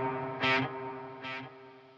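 An electric guitar rings out with a wash of reverb and distortion, two strummed hits sustaining and fading softly, no voices.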